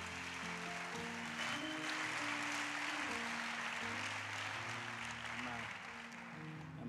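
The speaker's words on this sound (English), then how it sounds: "I think it's a clapping point." Applause at a church conference, a broad wash of clapping heard at a moderate distance under a sustained chordal keyboard or organ backing, with a voice over it.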